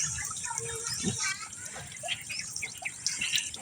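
Water drains from a home fish tank holding swordtail fry, a steady close trickle and splash that runs unbroken throughout.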